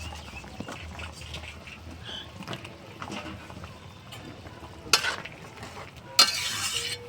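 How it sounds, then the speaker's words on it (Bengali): Eggplant pieces go into a boiling curry made with small chela fish: a low simmering bubble with faint clatter, then two sharp, louder splashing sizzles near the end as the eggplant is added. "ঝোলটা তো ফুটছে, আমি এই বেগুনগুলো দিয়ে দিচ্ছি।"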